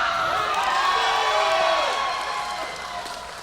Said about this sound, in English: The crowd certainly seeming to be behind Nova Phoenix here.